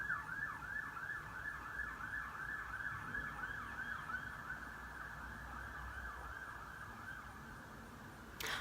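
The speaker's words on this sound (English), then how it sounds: "Sirens in the background disturbing me." An emergency vehicle siren wails in a fast, steady up-and-down yelp for several seconds, distant and faint behind a quiet room hum, with no voices.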